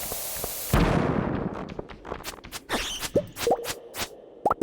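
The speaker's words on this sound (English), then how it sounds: "he already got hurt by the blast" A bomb goes off in a Stardew Valley video game mine: one sudden loud blast that rumbles away over about a second, then scattered small pops and clicks.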